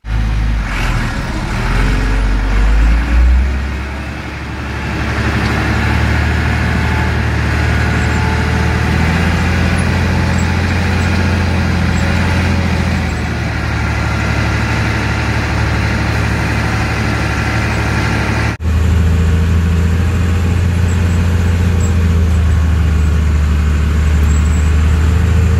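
A tractor engine pulling a row cultivator through a crop field drones steadily and loudly up close, with a brief dip in the rumble partway through and a continuous low mechanical hum throughout.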